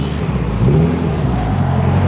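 A Subaru STi engine roars hard as it accelerates, a loud, continuous low drone rising in pitch, heard from inside or close by.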